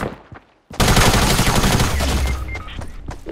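The old submachine gun in Fortnite fires a long, rapid burst, loud and continuous for about two seconds after a brief pause, then tapering into scattered shots.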